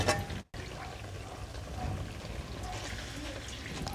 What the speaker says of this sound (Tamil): நான் 2 கிளாஸ் தண்ணி ஊற்றிருக்கேன்